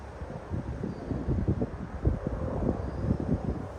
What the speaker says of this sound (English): It's getting quite windy here today